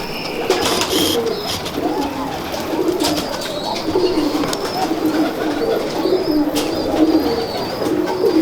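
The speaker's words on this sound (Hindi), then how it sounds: "ये इनमें से एक सलारा कबूतर जो है ये पट्ठा है" Pigeons, including a salara (black-winged) pigeon, coo repeatedly in a loud, close flock, with soft overlapping calls and some chirps throughout.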